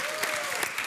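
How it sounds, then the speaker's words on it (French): Studio audience applause on a French television dating game show, a steady wash of clapping from a crowd that fills the brief moment evenly without pauses. "applaudissements pour Alexandra et Karim"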